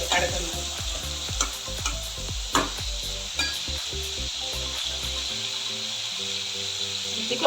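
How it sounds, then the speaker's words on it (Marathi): Chopped onion and tomato sauté in an oily pan for an ivy gourd dry curry, with a bright sizzle under repeated sharp spatula knocks and scrapes against the pan, the stirring easing off near the end while the hiss continues, no speech. "कांदा तर परतून झालाय, त्याच्यामध्ये मी हे टोमॅटो थोडंसं 1-2 मिनिटं परतले"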